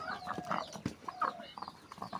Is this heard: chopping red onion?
no